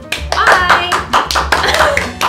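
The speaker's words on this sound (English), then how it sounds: "We're clapping." A small group of people claps together in a room, a burst of sharp, uneven hand claps lasting a couple of seconds, close and fairly loud, with voices mixed in.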